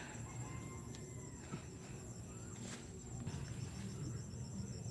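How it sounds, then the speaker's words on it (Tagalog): Rural Philippine countryside ambience with birdsong and insect-like chirps layered over a steady low background, a rooster's crow faintly present somewhere in the mix; no one speaks. "Huni ng ibon, pati tilaok ng manok."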